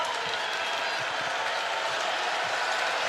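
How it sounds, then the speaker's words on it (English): A Penn State home crowd at a college basketball game against Michigan builds into a broad, steady roar of voices and scattered applause, heard from within the arena with no single sound standing out. "for the first time, some elevated volume from this Penn State portion of the crowd"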